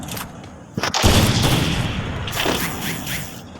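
Sniper rifle fire in the Free Fire video game: a sharp, loud shot or two bursting out about a second in, followed by a long rumbling, booming tail that slowly fades.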